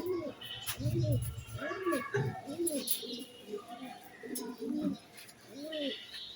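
Budapest pigeons cooing in a loft, a series of soft, rounded coos repeating at a relaxed pace, fairly close and moderately quiet with faint background sounds.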